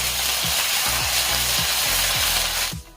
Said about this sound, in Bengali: এবারে আদা আর কাঁচা লঙ্কা তেলে একটু ভেজে নিচ্ছি যাতে করে আদার কাঁচা গন্ধটা চলে যায়